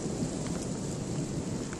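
Thunder rolls through a lightning storm in Mankato, a dense, continuous rumble mixed with heavy rain hiss, loud and unbroken with no talk.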